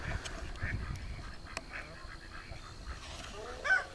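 Ducks quack in short, scattered calls at a modest distance on a farmyard, over a low background rumble, with a slightly louder squawk near the end.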